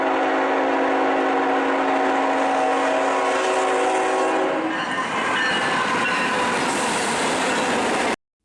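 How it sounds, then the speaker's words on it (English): A train passes with a sustained, blaring horn chord for several seconds, then the horn cuts off and the clatter of wheels on rails takes over, loud and close to the end. "Train."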